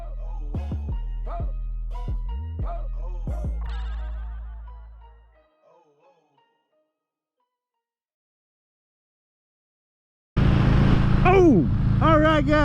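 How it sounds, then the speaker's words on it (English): Someone talks briefly, then after a long silence a 2021 Harley-Davidson Road King Special motorcycle engine suddenly fires up close by with a loud, deep rumble that keeps running. "my 2021 Harley Davidson Road King Special. So I'm going to fire this thing up"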